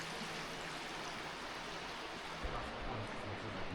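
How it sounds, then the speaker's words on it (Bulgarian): A small stream flows steadily near a cave by the Krushuna waterfalls, its broadband rushing and trickling water continuous and fairly close, with no voices heard. "Тази рекичка ми е интересно откъде извира."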